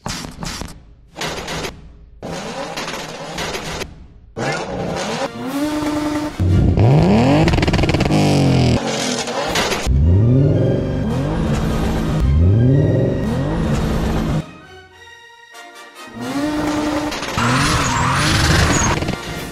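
BMW E30 or E36 cars revving hard and skidding, with rising engine wails and repeated tyre squeals in several bursts and a short pause, loud and close with no talking.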